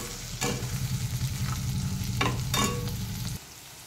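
Mung bean fritter curry is stirred in a pan after salt goes in, producing a steady close sizzle with rhythmic scraping strokes and a few brighter utensil scrapes before it cuts off abruptly.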